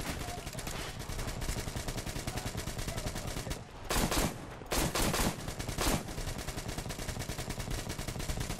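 Sustained machine gun fire in the shooter game Metro Exodus, rapid dense bursts rattling on continuously with a few brief pauses and louder blasts midway, no speech over it.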